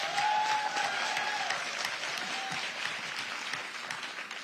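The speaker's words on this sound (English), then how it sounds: "Give him a hand clap" An audience applauds in continuous, fairly distant clapping that holds steady and slowly tapers across the stretch, with no talk over it.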